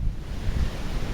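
Ocean surf and gusting wind at Secret Beach on Kauai, Hawaii, a low rumbling wash of waves with wind buffeting the microphone, heard briefly and fairly quietly.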